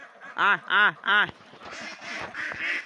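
Farm ducks by a pond on a cold winter day, three loud close quacks in quick succession followed by softer, scattered calls from the flock.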